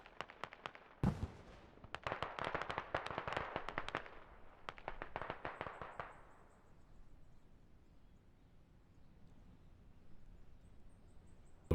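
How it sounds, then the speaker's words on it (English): Distant mortar fire in the military shooter Squad, a competitive 36-versus-36 match on the Narva map: a rapid string of sharp thuds and cracks over several seconds, then fading into a low rumbling background with no talk. "Enemy mortars back online."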